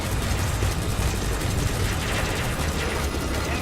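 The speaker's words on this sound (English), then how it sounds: "Oh, is my helicopter actually helping me?" Helicopter from the video game Metal Gear Solid V, a steady loud rotor drone with rumbling low end and mechanical churning throughout, no voices over it.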